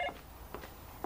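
A telephone is dialed with three brief, faint keypad tones spaced about half a second apart against quiet background hiss.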